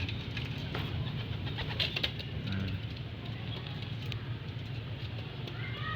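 Pet pigeons coo softly and repeatedly, low throaty calls rolling over a quiet background with a few faint clicks and rustles.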